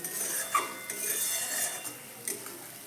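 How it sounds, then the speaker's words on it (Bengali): A spoon stirs fried pointed gourd (potol) into masala in a pan for a yogurt curry, making a couple of soft scrapes and clinks over a faint background hiss. "এবার এর মধ্যে দিয়ে দেব আগে থেকে ভেজে রাখা পটলগুলো দিয়ে একসঙ্গে একটু মিশিয়ে নেবো"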